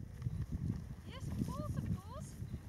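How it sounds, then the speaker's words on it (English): A pack pony's hooves clip-clopping on a walking trail near the Dorsetshire Gap, soft and irregular steps under outdoor noise, with birdsong chirps heard briefly in the middle. "He's our pack pony."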